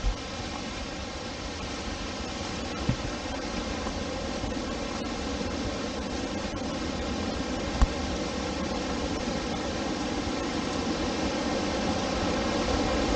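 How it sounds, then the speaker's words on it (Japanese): A waterfall near an abandoned trail in Hokkaido gives a steady, loud, broadband rush that holds constant throughout, broken only by a couple of faint knocks and no speech. "ここにも滝があったんだ。"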